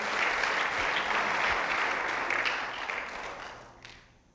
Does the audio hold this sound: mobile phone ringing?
no